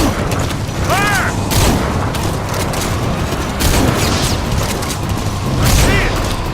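Gunfire and booming blasts in Metal Gear Solid V: The Phantom Pain, loud and dense, with repeated shots and heavy impacts mixed with shouted voices and mechanical noise.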